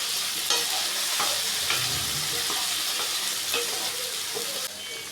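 Potatoes frying in a pan for an aloo posto dish, a steady close sizzle with scattered stirring clinks and scrapes throughout, no voices.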